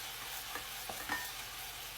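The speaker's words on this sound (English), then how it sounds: "frying up, bubbling, and you can see and hear that" Food frying and bubbling in a pan over turned-down heat, a steady broadband sizzle with a few soft stirring clicks, close and alone with no talking.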